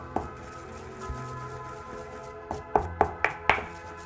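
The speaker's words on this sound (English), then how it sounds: "I need to pound the whole seeds" Toasted whole cumin seeds pounded in a kitchen, a few soft knocks early and then a quick series of four sharp, close strikes near the end.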